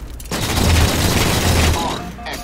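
A burst of Halo game gunfire, a dense, loud rattle of shots lasting under two seconds, close and continuous without speech.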